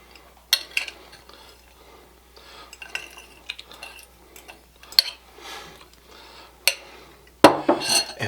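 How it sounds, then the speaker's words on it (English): A metal fork scrapes and clinks graham crackers out into a springform pan: close, sharp taps and scratches in irregular bursts, with quiet pauses between. "I'm going to use a fork to get these out."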